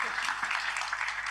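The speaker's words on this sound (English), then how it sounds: "Can you please give them another round of applause?" An audience gives a round of applause to student policy proposal teams at a deliberation challenge final, dense continuous clapping, fairly close and even, lasting briefly with no talk.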